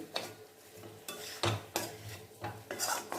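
Chicken fries in oil in a pan while a spatula stirs it, producing rhythmic scraping strokes over a close, crackling sizzle with a few metallic knocks.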